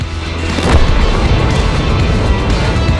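A tank cannon fires in World of Tanks, a heavy boom that rolls into a sustained rumbling blast, loud and close.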